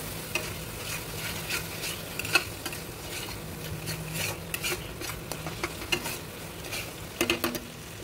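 Ground poppy seed spice paste stir-fried in oil for potol posto, a low steady sizzle with frequent spatula scrapes and taps on the pan, with a quick burst of clatter near the end.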